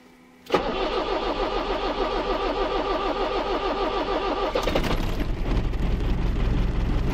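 Car engine cranks and catches, settles into a rhythmic idle, then is revved louder and rougher for the final seconds, close up and with no talk.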